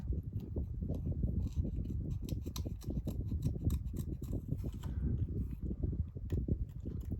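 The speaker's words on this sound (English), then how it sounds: "Let's just cut that out again" Scissors snipping around a stamped paper image for a handmade card, rapid rhythmic close-up cuts continuing steadily with no pauses and no speech.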